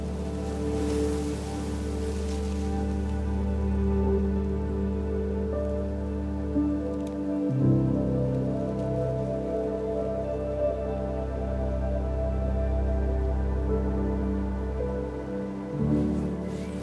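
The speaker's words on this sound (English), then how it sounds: "I love getting out into the woodland when it's raining" Steady rain falling through woodland, a dense continuous hiss of drops on leaves and ground that stays loud and even throughout, with no voices.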